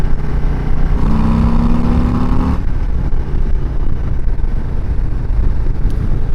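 Harley-Davidson Low Rider ST motorcycle with a non-stock exhaust, engine revving up loudly and climbing in pitch while riding, then a continuous loud roar with wind rush.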